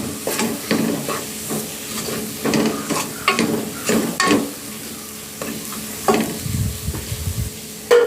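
Garam masala frying in hot oil for a Sri Lankan style chicken curry, with repeated scraping stirs against the pan over a steady sizzle, close and fairly loud.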